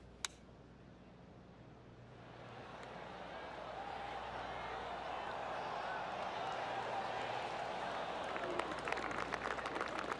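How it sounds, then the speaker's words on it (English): Golf crowd in PGA Tour 2K25 at Bay Hill Club during the Arnold Palmer Invitational, a soft, distant wash of clapping that slowly swells, with a commentator-style voice talking over it. "I can hear the golf claps around the course."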